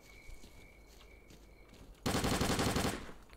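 Gunfire in the video game S.T.A.L.K.E.R.: Clear Sky, a loud burst of rapid automatic shots lasting about a second after quieter footsteps and game ambience.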